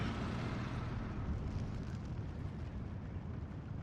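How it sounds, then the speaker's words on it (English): A heavy bomb dropped by a Focke-Wulf 190 detonates in the Steel Division 2 war game, a dense, loud rumbling blast that rolls continuously through the whole moment with no voices over it. "Nice chunky bomb from the Focke-Wulf 190."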